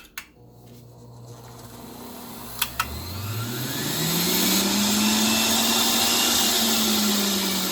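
A Breville juicer switched on at high speed, its motor whining up in pitch and settling into a loud, steady drone, with a couple of sharp clicks as it starts.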